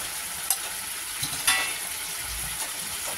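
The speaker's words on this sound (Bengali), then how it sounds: "ঝোলটা ফুটে যায়।" Fish curry gravy with water, salt, turmeric and chilli powder bubbles and sizzles steadily in a pan, a close, continuous hiss broken by a few sharp spits and pops.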